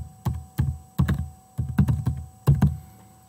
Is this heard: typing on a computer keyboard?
yes